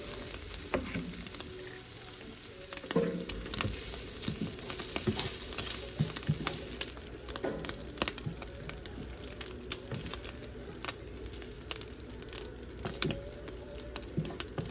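Sausage frying in a pan for gravy, a steady close sizzle peppered with constant small pops and crackles, occasional clinks of stirring, no voices.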